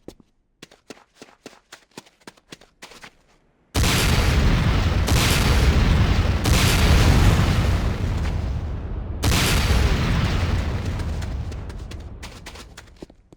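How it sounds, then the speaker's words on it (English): An automatic rocket launcher in Command & Conquer: Renegade fires a string of sharp shots, then heavy booming explosions roll out loud and sustained, with a second big blast before the roar slowly fades. "Next up is the Sakoze 66mm Type R12 Locust automatic rocket launcher."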